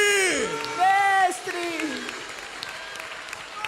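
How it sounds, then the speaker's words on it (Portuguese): A church congregation applauding during a Portuguese-language celebration service, steady clapping beneath loud, excited shouting and singing from a leader at the front. "Aplauda o mestre."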